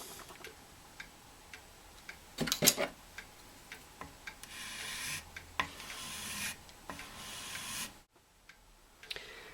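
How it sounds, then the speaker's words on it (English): A small half-round hand file rasps against an acrylic organ pipe, giving intermittent scraping strokes near the mic with light taps and rubs between them, plus one louder burst of handling. "finish it up with a little half round file here"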